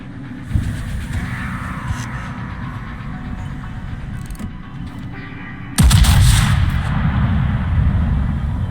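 A battleship's main battery salvo fires in World of Warships with a sudden, heavy, close boom near the end. A steady low engine and water rumble runs underneath, with a fainter thump earlier.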